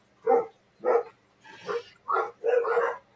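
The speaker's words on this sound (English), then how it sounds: "while we got dogs trying to kill each other" Dogs bark in a fierce scuffle, five sharp close barks and growling yelps in an uneven rhythm, loud and alone without any talking.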